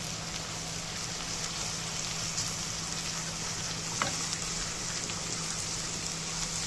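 Garlic and coriander sizzle softly in a pan, a steady faint hiss with an occasional light knock as the mix is stirred.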